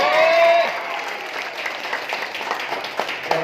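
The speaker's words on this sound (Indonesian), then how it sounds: "Aplaus ya." An audience at a business presentation applauds in a brief burst that fades into scattered claps, with a voice over it.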